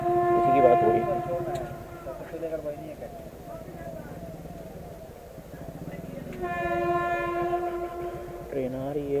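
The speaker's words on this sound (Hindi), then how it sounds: "ट्रेन आ रही है" A train approaches a railway level crossing, sounding its horn in long, loud blasts over the rumble of rolling wagons. A second horn blast comes near the end, with people talking under the noise.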